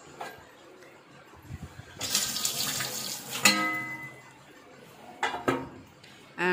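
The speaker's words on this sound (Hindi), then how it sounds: "जैसा कि आप देख पा रहे हैं कि मैं ठंडा पानी डाल रही हूँ" Cold water is poured over sliced potatoes for crispy chilli potatoes in a home kitchen, giving a loud, rushing splash that swells and fades in a few bursts, with quieter clinks and water noises around it.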